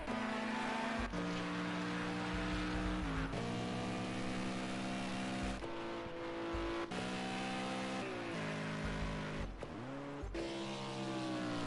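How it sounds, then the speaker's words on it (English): Race cars at Le Mans, a mix of GT3s, Fords and LMP prototypes, roar past one after another, each engine note rising and falling in a series of loud, overlapping passes with constant track noise between them. "Come your GT3s, Fords and LMP cars. As you hear there, there's a GT3 leader"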